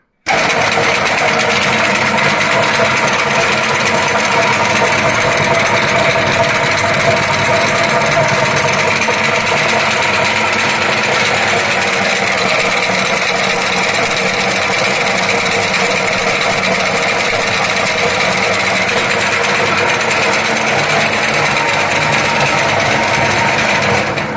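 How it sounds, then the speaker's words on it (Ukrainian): A MIM-300 industrial meat grinder with a restored auger runs at full speed, giving a loud, steady, unbroken mechanical roar that holds evenly from start to finish without pause. "Тобто ось така м'ясорубочка на повному ходу."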